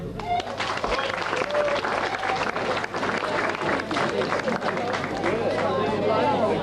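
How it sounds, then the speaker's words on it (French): Audience applause at a prize-giving ceremony, a steady wash of clapping running through the whole stretch alongside crowd chatter and a voice talking over it. "Applaudissez pas trop"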